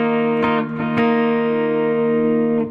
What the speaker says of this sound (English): So we have our D without the high E, and it's going to sound like this.